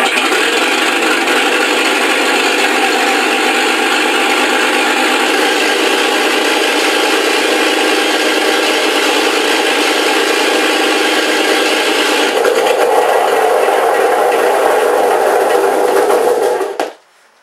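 A Mr RC Sound V4 engine sound system spins up at idle with a steady, loud, rough mechanical rumble, shifting tone near the end before cutting off abruptly into silence.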